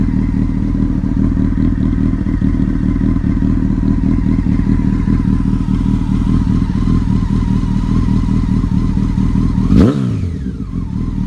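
A warm 2007 Honda 919 motorcycle engine idling close by with a steady rumbling throb, then a quick rev that rises and falls sharply near the end before it settles back.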